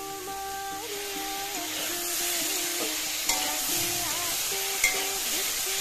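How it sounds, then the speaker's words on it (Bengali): Ridge gourd pieces sautéing over a high gas flame, a steady frying hiss with stirring scrapes and a few sharp clinks, while a voice speaks in the background. "গ্যাসের ফ্লেম হাইয়ে রেখে ঝিঙেগুলোকে 2 থেকে 3 মিনিট বেশ ভালো করে কষিয়ে নেব।"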